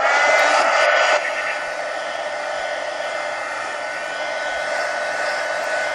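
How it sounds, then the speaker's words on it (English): A hair dryer blows steadily to dry wet paint on an art journal, a loud continuous whooshing hum that drops slightly in level after a second and then holds constant. "let me dry this real quick, guys, because I got wet paint here now again"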